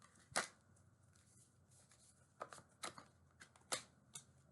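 Tarot cards shuffled in quick riffling bursts, a few sharp rustling snaps spaced over several seconds, close and fairly quiet with no talking.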